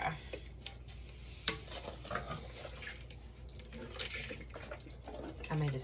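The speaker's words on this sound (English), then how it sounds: "And I'm just going to stir." Birria stew stirred in a pot as liquid is poured in, with soft wet sloshing and spoon scrapes that stay faint and low, broken by a few sharper knocks.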